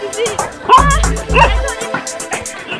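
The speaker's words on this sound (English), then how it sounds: "And this, these are the dogs, puppies." Dogs and puppies in a rural farming village bark and yip close by in short bursts, with higher whimpers mixed in, loud and overlapping across the whole stretch.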